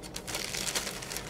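Close crinkling of a plastic bag holding a block of clay, a dense continuous rustle lasting just over a second.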